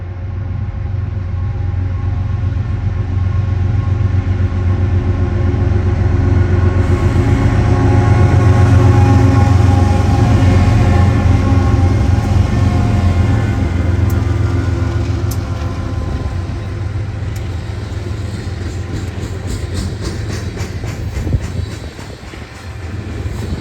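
A heavy Union Pacific freight train of 133 cars rumbles past close by at Cascade Locks, a steady loud low roar with wheel clatter and metallic squeal that fades slightly toward the end.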